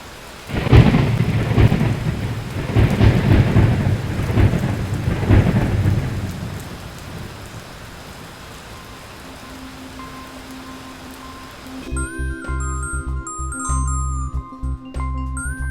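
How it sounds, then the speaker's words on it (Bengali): Heavy rain pours steadily while thunder rolls in several deep, loud rumbles, then the storm fades and gentle chiming music takes over near the end. "এখানে খুব বৃষ্টি হচ্ছে"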